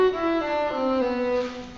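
A string instrument plays a short melodic arpeggio figure starting on G, rising through the chord then stepping down, with sustained bowed-like tones, clear and alone.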